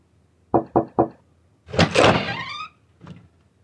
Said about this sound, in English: After a couple of faint knocks, the door opened and Mr. Rao barged in.